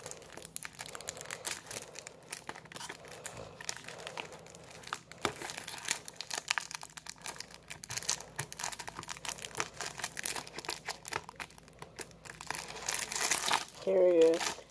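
Crinkly plastic wrapping on a pack of X-Men trading cards crackles and tears in repeated bursts, close up, with a person talking over much of it and a louder rustle near the end.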